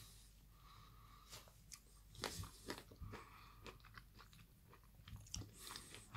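Häagen-Dazs dark chocolate ice cream with caramelized almonds is chewed close to the mouth, giving quiet irregular crunches and bites spread over several seconds, with no talking.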